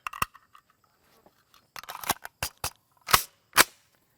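An AR rifle on a mil-spec lower fires at an RTS Tactical Level IIIA mini shield. Several sharp, loud cracks land at irregular intervals, with quieter clicks and clatter between them.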